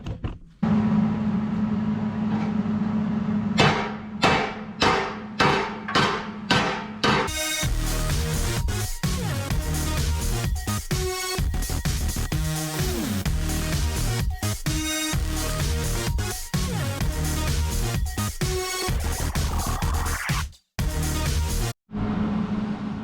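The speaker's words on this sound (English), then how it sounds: "try to weld this little patch in" Welding a small patch onto an Allis D17 tractor rim: bursts of crackling, sizzling arc noise start and stop in short tacks and then run in longer continuous passes, close up with brief pauses between welds.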